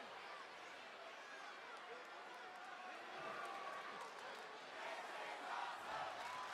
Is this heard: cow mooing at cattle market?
no